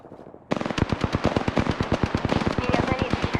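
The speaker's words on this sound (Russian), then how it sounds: "Меня заметили. Я под обстрелом. Стреляю." Rapid automatic gunfire in a video game shootout, starting abruptly after a brief quiet moment and continuing as a dense, loud, steady burst of shots.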